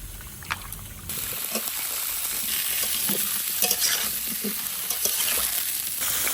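Potato, pumpkin, sweet potato and papaya sizzle in hot mustard oil with turmeric and salt while being stirred and scraped in a pan, giving a steady frying hiss with clattering stir strokes up close.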